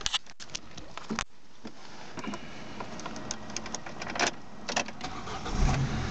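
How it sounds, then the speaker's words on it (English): A Ford Ka is started, with clicks and a brief starter whirr followed by the engine settling into a low, steady idle close by, with no talking. "Vehicle starts nicely."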